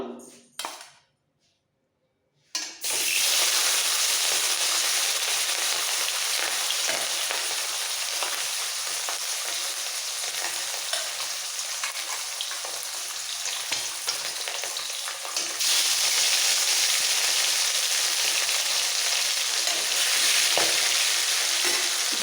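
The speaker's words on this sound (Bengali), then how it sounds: "এবারে ম্যারিনেট করা মাছগুলো ছেড়ে দেবো ভাজার জন্য" Marinated rohu fish frying in hot mustard oil: after a short quiet moment, a loud, steady sizzle starts abruptly and crackles on without a break, growing slightly brighter toward the end.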